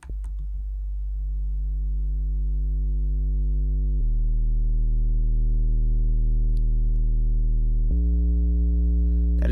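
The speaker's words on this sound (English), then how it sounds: "Adding any kind of distortion to a silent sine wave sub bass" A deep, sustained sine-wave sub-bass tone with gritty distortion adding buzzy overtones, holding steady and shifting pitch twice, loud and alone.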